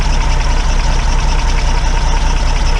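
A repaired engine that had refused to run, now idling steadily and slightly smoky, a loud continuous low rumble with an even throb heard close up for a few seconds, no talk.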